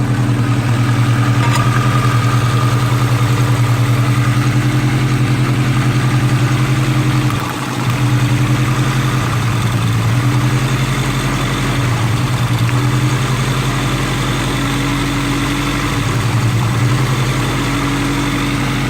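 A Honda Integra engine, running again after a fuel injector and fuel issue was fixed, idles loudly and steadily up close with a smooth, even low hum and small dips in pitch.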